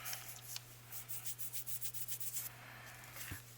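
Excess embossing material is rubbed off a paper envelope in a series of quick, soft, rhythmic brushing strokes, faint and close over a low background hum.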